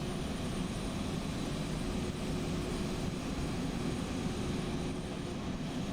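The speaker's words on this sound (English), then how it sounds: "I think it's probably one of the aircraft that's starting up." Airliner engine spooling up in the X-Plane 11 flight simulator, around a Flight Factor A320, a steady, dense roar with an even drone, continuous and unchanging in loudness throughout, with no voices.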